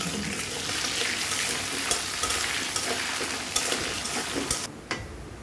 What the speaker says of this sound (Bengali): প্রথমে হচ্ছে আলুগুলো ভেজে নেব একটু হলুদ আর লবণ দিয়ে।